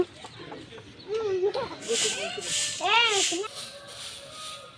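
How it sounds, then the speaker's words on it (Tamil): Chicken clucks and a rooster-like call ring out close by in a Tamil village, with a few short arched cries amid light background noise. "கோழி இந்த மரத்தில் தான் அடையுதா"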